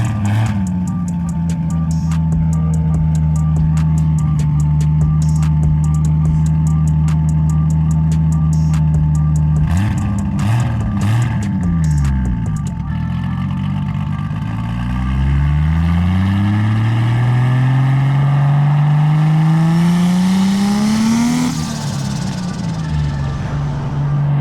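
A BMW E36 fitted with a swapped 2JZ engine cruises slowly, its engine note loud and steady, then dipping and climbing again through gear changes as the car picks up speed, with no one talking.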